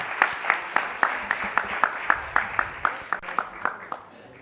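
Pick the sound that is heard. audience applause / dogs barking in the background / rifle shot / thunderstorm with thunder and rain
audience applause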